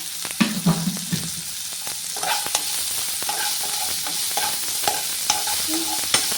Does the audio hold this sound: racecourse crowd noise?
no